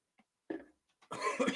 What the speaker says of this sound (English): I'm having a hard time not coughing